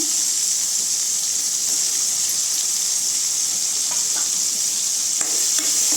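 Ginger garlic paste and tomatoes sizzle in a frying pan for Chettinad mutton chukka, a loud unbroken hiss with a few soft stirring scrapes near the end, close up and without speech.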